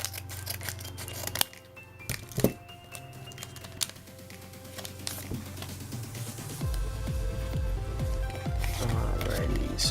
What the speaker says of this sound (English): I'm gonna cut from the side here